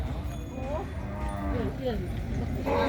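Cattle low and moo at a busy Thai cattle and buffalo market, several drawn-out calls rising and falling over a dense murmur of crowd noise, fairly close and loud.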